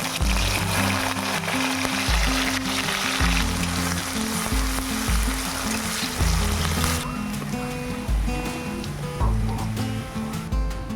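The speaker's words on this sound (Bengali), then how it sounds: "পেঁয়াজটাকে ভাজা করে নেব" Chopped onions frying in oil for a village-style chicken curry, a continuous loud sizzle and crackle heard up close, with a steady low tonal hum running beneath it.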